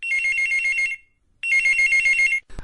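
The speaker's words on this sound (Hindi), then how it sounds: "एक और कॉलर की कॉल आ रही है" An incoming caller's telephone rings on a Hindi radio farming phone-in show: two loud, close, warbling electronic ring bursts with a short gap between them, then a brief click at the end.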